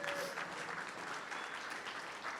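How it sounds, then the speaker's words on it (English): An audience at a business talk on social media lead generation gives a round of applause for an executive. Dense, even clapping at moderate volume continues for a couple of seconds with no talking over it. "Let's give him a round of applause."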